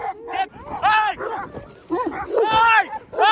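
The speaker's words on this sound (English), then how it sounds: "was suddenly set upon by a pack of dogs" Pack of shepherd dogs at a shepherd settlement barking and yelping close by, several loud overlapping bursts with whimpering tones, mixed with a person's voice.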